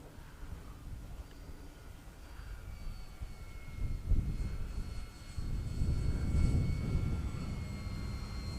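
A radio-controlled model Gloster Gladiator airplane flies on a short test flight in wind, its faint, distant motor drone rising and falling as it passes overhead.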